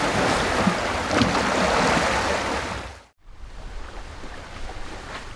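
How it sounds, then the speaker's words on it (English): Water rushing and splashing along the hull of a sailboat running under a wing spinnaker on the open ocean, a loud continuous wash with wind, briefly dropping out before resuming. "sound of the water is just so relaxing"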